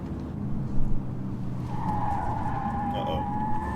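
Car tires squeal and skid through a U-turn in a TV drama scene, a rising screech over engine rumble and road noise, fairly loud and with no talking.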